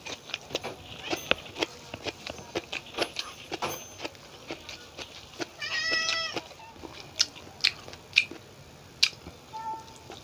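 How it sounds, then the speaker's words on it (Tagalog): A cat outdoors meows repeatedly at a distance, one drawn-out cry standing out among sharp intermittent clicks and taps nearby. "ang ingay ng pusa sa labas. Yan lang yung kakaibang pusa na maingay. Miyaw ng miyaw."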